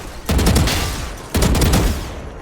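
Two bursts of rapid automatic gunfire from a Valorant-style shooter while counter-strafing, each a loud, close string of fast shots lasting about a second, the second starting shortly after the first ends.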